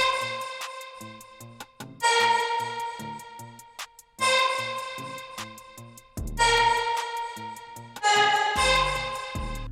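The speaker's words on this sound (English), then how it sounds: "the last thing we did to give it an even more summery feeling was adding this Virox synth shot" Bright synth shot stabs for a summery Afro remix drop, repeating chords over a tinkling, chiming pattern and low rhythmic hits, full and close with no voices.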